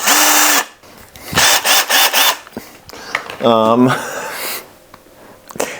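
Power drill driving screws while assembling a LifeSpectrum Linear grow light, several short loud whirring bursts with a rising ratcheting spin, broken by pauses.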